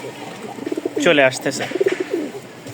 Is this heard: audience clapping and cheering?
no